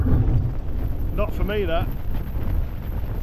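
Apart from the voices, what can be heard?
strong wind during storm camp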